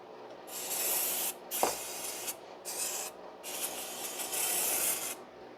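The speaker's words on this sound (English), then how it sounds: "Spray down with brake cleaner." Brake cleaner sprayed onto clutch and shifter parts of a 2010 Toyota Corolla 1.8, heard as four close, loud hissing bursts separated by short pauses, with a small clunk in the second burst.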